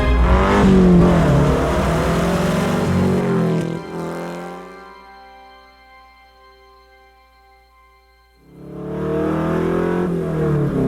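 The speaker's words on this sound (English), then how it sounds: "So this is one of 5 Porsche 906 race cars that was built specifically for the movie Ford v Ferrari." A Porsche 906 race car built for a film drives past, its engine note rising loud and close, fading to a distant drone, then roaring back in as it approaches again.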